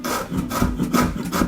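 A knife finely chopping a quarter of a brown onion on a board, with steady rhythmic cuts and rubbing strokes repeating close by, loud and with no talking.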